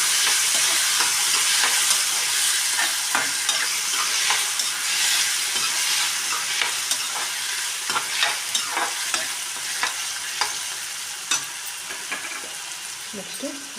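Tomato and coriander leaves fry in a pan as a continuous sizzle, broken by frequent sharp scraping taps of a spoon stirring, steady and close with no talking.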